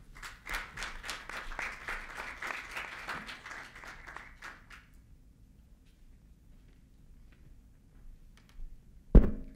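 An audience at an architecture lecture breaks into warm applause, dense clapping for about five seconds that then fades into room quiet, followed by a sharp thump near the end.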